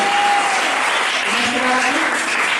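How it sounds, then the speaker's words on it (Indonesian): An audience at a church seminar in Tondano breaks into sustained, dense applause, a steady wash of clapping from a large crowd. "Berikan tepuk tangan bagi Tuhan Yesus."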